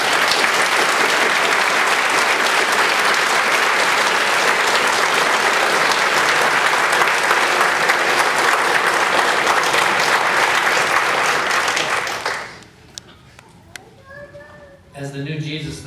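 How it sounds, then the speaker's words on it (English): An audience at a freethought conference applauds loudly and steadily for about twelve seconds, then the clapping drops off abruptly into quiet room sound with a few scattered claps and a voice near the end. "would you give a great hand clap to the great Dan Barker?"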